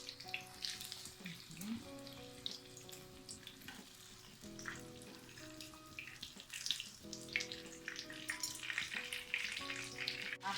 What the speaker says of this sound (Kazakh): екі жағын бірдей қылып әдемі қылып міне қуырып аламыз